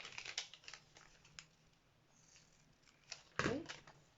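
Scissors snip through fabric and mesh while a bustier dress is being sewn, giving a few short crisp cuts close by, the loudest near the end, against light handling noise.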